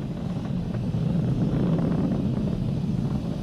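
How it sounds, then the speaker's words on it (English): Falcon 9 rocket engines roar during a Crew Dragon launch, a steady broadband rumble heavy in the low end with wind-like noise, continuous and distant-sounding, no voices over it. "Vehicle is supersonic. We've exceeded Mach 1 on the Falcon 9."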